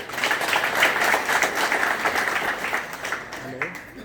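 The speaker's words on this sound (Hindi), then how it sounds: "एक बार ये माताएं बहनें और बेटियों के लिए जोरदार ताली चाहूंगा।" Crowd applause for women at a gathering about last rites and funerals in India, a dense steady wash of hand clapping throughout with voices mixed in.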